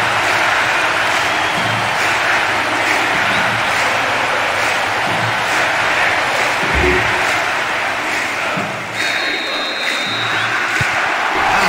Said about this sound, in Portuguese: A torcida vai à loucura, é maravilhoso!